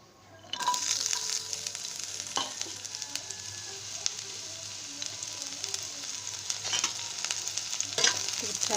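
Chopped onion dropped into hot oil for an Odia cabbage curry: a sudden burst of loud sizzling that settles into a steady crackling fry, broken by occasional stirring clicks and scrapes.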